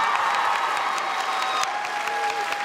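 A large crowd at a PAX West gaming convention panel claps loudly and steadily, with faint cheering mixed into the dense applause.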